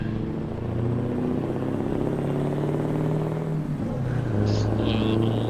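Heavy truck engine in Euro Truck Simulator 2 drones steadily after a downshift, engine braking under a heavy load with a low rumbling tone that shifts pitch midway, continuous and close.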